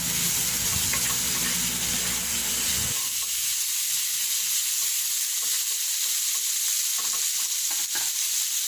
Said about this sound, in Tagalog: Haluin na natin siya ng mabuti na mag-absorb yung mga ingredients